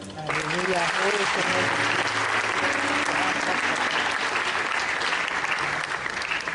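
A church congregation at a healing mission in Cameroon breaks into loud, sustained applause to acclaim the Lord, a dense wall of clapping with voices and cries mixed in.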